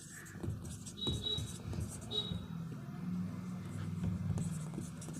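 A pen scratches across paper while a maths problem on discontinuous functions is worked out by hand. The soft, faint scraping strokes run under someone speaking throughout.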